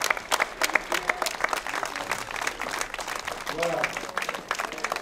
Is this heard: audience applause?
yes